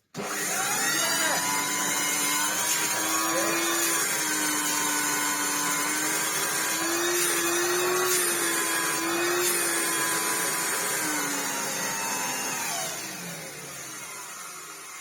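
A Hoover Turbopower 2 Autosense vacuum cleaner motor, one in need of a rebuild, runs with a loud, steady whining drone full of tones, then winds down and quietens near the end.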